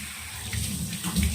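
Water runs from a tap for face washing, a steady close splashing rush with slight surges, heard alone without talk.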